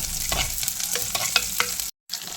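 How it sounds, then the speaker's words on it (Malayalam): Cumin, mustard seeds, chopped shallots and curry leaves frying in hot oil in a pan while a spoon stirs them, a bright steady sizzle broken by repeated scraping strokes, then a short dropout of near silence before the sizzling resumes. "ജസ്റ്റ് ഒന്ന് ഇളക്കി കൊടുക്കാം."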